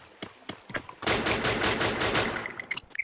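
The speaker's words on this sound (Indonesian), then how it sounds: "Sambil nembak bisa nih." Gunfire in the mobile shooter Free Fire: a few single shots, then a rapid sustained automatic burst lasting over a second, followed by small metallic clinks.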